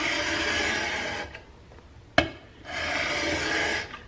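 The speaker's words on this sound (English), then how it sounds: "Using this worn sandpaper, and I draw this towards myself," A hand plane iron held in a roller honing guide is drawn over worn sandpaper, giving two long, steady gritty rubbing strokes. A short sharp tap falls in the quiet pause between the strokes.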